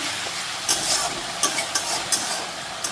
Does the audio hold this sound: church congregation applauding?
no